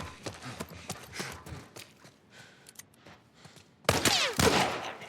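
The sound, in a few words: gunshot headshot in video game The Last of Us Remake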